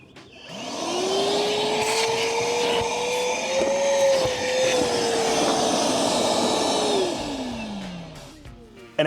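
A Milwaukee M12 Fuel 1.6 gallon cordless wet/dry vacuum running inside a truck, a loud steady whine that rises after switch-on, holds for several seconds and winds down at the end.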